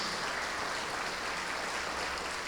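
A church congregation applauds, a dense, even wash of many hands clapping that holds steady through the short stretch with no pause.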